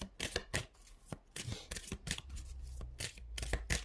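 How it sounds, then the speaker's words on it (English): A deck of tarot cards is shuffled by hand in quick bursts of sharp, riffling snaps and soft slides, close and fairly quiet, with brief pauses between rounds. "so now we're going to shuffle these again"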